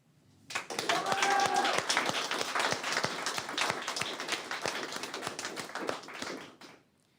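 An audience at a military wing's annual awards ceremony gives steady applause that starts abruptly, holds dense and even for several seconds, then fades out, with no talking.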